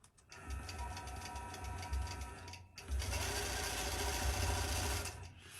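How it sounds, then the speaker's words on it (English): A longarm quilting machine stitching thread while couching, a steady fast mechanical whir and rhythmic needle clatter that briefly pauses, then resumes louder and continuous. "So I let it stitch a couple inches, and then I stop"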